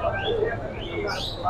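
A pigeon coos briefly at a busy pigeon market, a soft warbling call close by, with other bird chirps and nearby voices in the background.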